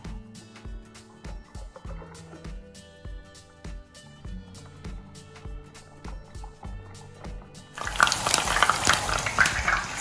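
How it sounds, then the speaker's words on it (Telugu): Brinjal slides into hot oil for deep frying, a loud broadband sizzle bursting in near the end after a stretch of quieter kitchen sounds and music-like tones, then hissing steadily. "సో నూనె కాగక వంకాయ వేసేద్దాం."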